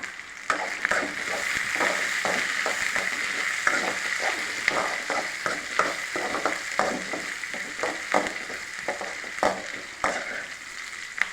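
Onions and curry leaves sauté in hot oil with a steady close sizzle, broken by repeated scraping stirs of a spoon in the pan at irregular intervals; no voices.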